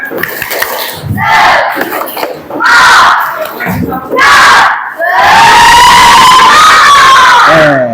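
A class of children chants and shouts loudly in unison in bursts during a clapping cheer, ending in a long, sustained cheer.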